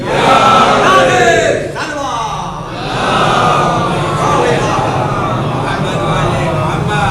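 A large mourning congregation at a Shia majlis in Saharanpur raises loud Haidari slogans together, a dense roar of many voices carrying steadily from start to finish with one brief dip near the middle.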